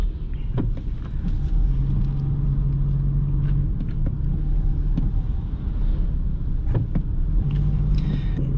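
Steady low engine drone of a 2021 Toyota Hilux Adventure pickup heard from inside the cabin while driving, with road rumble and a faint wind hiss running continuously throughout.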